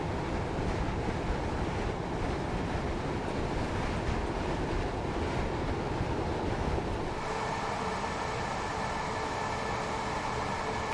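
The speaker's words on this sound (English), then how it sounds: "It's got quite windy." Steady wind gusts and a broad rushing roar fill the soundscape of the Train Sim World 2 London commuter rush-hour route, continuous and fairly loud throughout, shifting in tone partway through.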